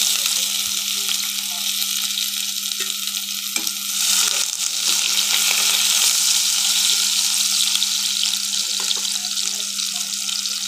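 Chopped onion frying in hot oil for a Bengali egg curry, a loud, steady, close sizzle that carries on evenly throughout with a low constant hum underneath.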